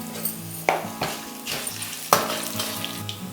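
A tempering of dried red chillies crackles in hot oil in a pan, a close low sizzle with a couple of sharp clinks from stirring.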